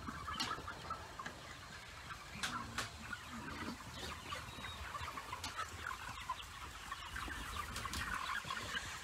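Dense clucking and crowing from 30,000 chickens inside a center-brood chicken house on a farm, a continuous near crowd of fowl calls with sharp individual squawks standing out throughout.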